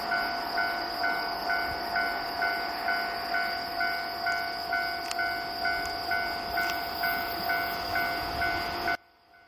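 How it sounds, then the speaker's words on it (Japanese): A JR West Sanyo Line local passenger train, a 115 series in Setouchi livery, rumbles past a level crossing while the crossing bell rings in a steady, evenly spaced rhythm, then everything cuts off abruptly. "下関駅行き下り普通列車、車体はポピュラーな小池色。"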